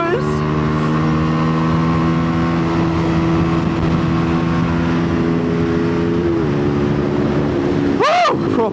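A Rieju RS3 motorcycle rides along at a steady, loud engine drone with strong wind noise, then shifts down near the end before a brief high whoosh.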